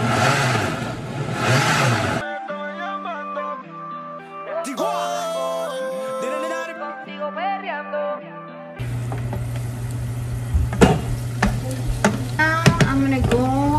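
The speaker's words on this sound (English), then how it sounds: "I keep mixing my carne because I'm not wanting to burn." Pork (carne de puerco) frying in a pan and being stirred for a chile rojo dish, a busy sizzle with scraping stirs, broken up midway by a stretch of tonal, pitched sound before the frying returns close and loud.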